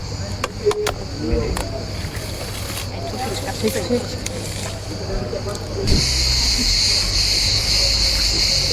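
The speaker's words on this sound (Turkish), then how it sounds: "Cırcır böceklerin eşliğinde duyabildiğinizi bilmiyorum." Crickets trill in a steady high chirping chorus outdoors at a seaside venue in Çandarlı, Turkey, with people talking and background hiss; the insect sound grows noticeably louder toward the end.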